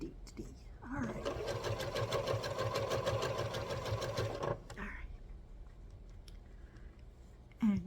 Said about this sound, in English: just keep sewing it down, keeping that allowance, also keeping track of where everything is